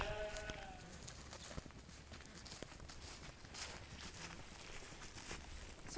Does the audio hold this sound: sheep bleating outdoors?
yes